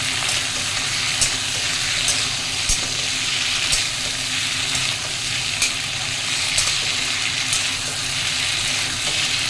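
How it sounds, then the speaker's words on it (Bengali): Ginger garlic paste fries with tomatoes in a pan in a loud, continuous sizzle. Sharp spatula taps and scrapes recur every second or so, and no one speaks. "এবার সামান্য একটু আদা রসুন বাটা দিচ্ছি, দিয়ে ভালো করে ভাজবো"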